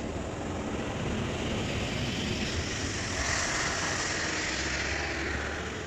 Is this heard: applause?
no